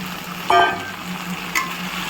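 Chicken pieces for dry chilli chicken fry in a pan, a steady close sizzle broken by two sharp clinks of a stirring spoon against the metal.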